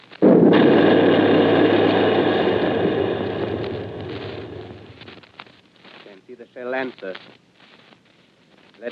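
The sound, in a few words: artillery gun firing in a radio drama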